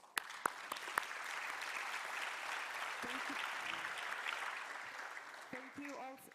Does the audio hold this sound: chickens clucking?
no